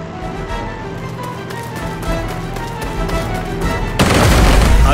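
Gunfire from an infantry unit attacking an enemy in the World War II strategy game Strategic Mind Blitzkrieg, a continuous dense rattle of shots and booms under game music and effects, growing louder toward the end.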